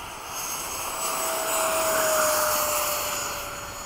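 A MiG-21 jet on its takeoff roll gives a steady, loud engine roar with a sustained whine, swelling slightly through the middle and easing off near the end, with no talk.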